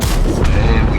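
A single deep, booming tank cannon shot strikes an enemy hull in World of Tanks, a loud, heavy blast with a dull rumbling tail, very brief.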